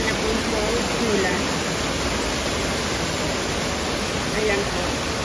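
A waterfall and fast river current make a dense, steady rushing roar, with faint indistinct voices at moments beneath the water noise.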